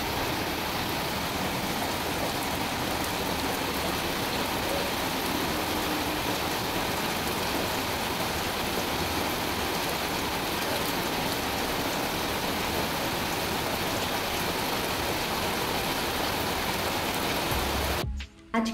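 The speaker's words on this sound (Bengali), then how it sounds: "কি জোর বৃষ্টি পড়ছে তার মধ্যে।" Heavy rain pours down steadily and loudly with a dense, unbroken hiss that fills the whole stretch, cutting off abruptly at the very end.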